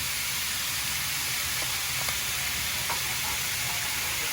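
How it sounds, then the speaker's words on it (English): Steak meat sizzling steadily in a hot pan alongside peppers, mushrooms and onions for a steak and cheese sandwich, with a few soft scraping clicks as it is stirred around. "So the meat is starting to brown, so I'm just like stirring it around"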